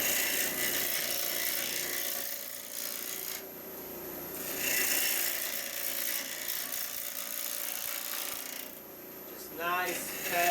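A woodturning tool takes light paring cuts on a wooden bowl spinning on a lathe, giving a steady rasping, scraping hiss that swells and fades with each pass, heard up close.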